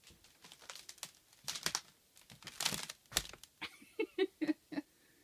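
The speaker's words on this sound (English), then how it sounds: "Can you hear the floor cracking?" Wooden floor creaking and crackling underfoot in a cold cabin bedroom, a run of irregular dry cracks and creaks, fairly close, ending in a few sharper pops.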